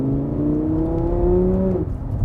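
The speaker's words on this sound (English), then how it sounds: "it's naturally aspirated V10, and it's this V10. Engines don't sound much better than this." An Audi R8's naturally aspirated V10 revs up in one smooth, rising howl, close and loud, with clear climbing harmonics before easing off.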